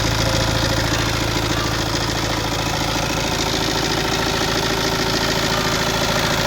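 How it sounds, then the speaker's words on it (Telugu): An engine idles in a continuous, even rumble with a fine mechanical clatter running through it, close and loud throughout with no voices. "ఇంజిన్ సౌండ్ కూడా బాగుంది"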